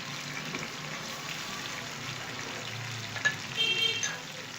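Ginger garlic paste fries in a pan for stuffed qeema karela, making a soft, steady sizzle, with a brief clatter of stirring toward the end and no talk.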